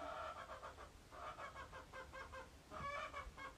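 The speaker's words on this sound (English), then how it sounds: "you're going to hear the chickens because they're right behind you" Hens clucking inside a coop where they are laying eggs, a steady chorus of overlapping clucks and squawks close by, rising in bursts with brief lulls.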